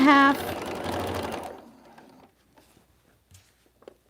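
Sewing machine quilting a patchwork pouch with gridded interfacing, a close, steady motor whir and needle chatter that runs for about a second and a half and then stops, leaving faint scattered clicks.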